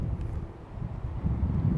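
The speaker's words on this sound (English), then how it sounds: "It's just a shame it's so windy today." Wind gusts across the microphone at a canal lock, giving a low, rumbling buffet that swells and eases over a couple of seconds with no speech.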